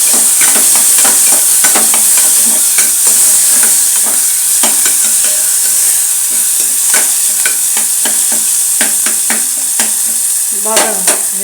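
Tomatoes fry loudly in a pan for a beetroot and dry fish dish, a constant close sizzle punctuated by frequent scraping and clinking stirs from a spoon.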